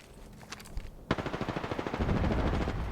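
Rapid automatic gunfire in an Apex Legends match: a few scattered shots, then a sharp burst rattling off in a steady rhythm that thickens into sustained loud fire.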